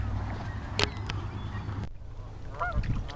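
Geese on a river give a few short honks at moderate distance over steady outdoor background noise on a sunny day.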